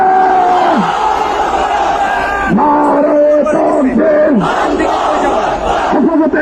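A large crowd chants slogans at a street rally, a loud lead voice calling out phrases and many voices answering in rhythmic, shouted waves that rise and fall across the recording.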